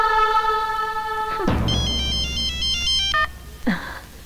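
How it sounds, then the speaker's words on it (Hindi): A telephone rings in a Hindi film scene, first as a sustained electronic tone and then as a run of bright warbling beeps, ending in a short clatter as the call is picked up. "मैं समझ गया कि मैडम जेसिका फोन पर आए"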